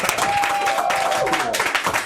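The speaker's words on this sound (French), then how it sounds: "je crois qu'ils vont s'applaudir quand même, les gars" Guests in a French TV studio applaud the young sexual health ambassadors, a steady, dense round of clapping with a sustained tone running through it and some voices mixed in.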